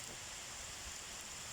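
Steady rain falling outdoors, a soft, even hiss of drops that stays constant throughout with no break, fairly faint and with no voices over it.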